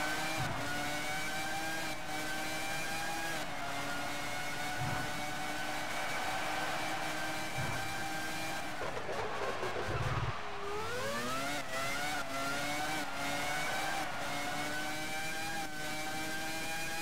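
A Formula 1 car engine in the video game F1 2001 drones steadily at high revs, its pitch dipping and climbing again as it slows through a turn, loud and continuous throughout.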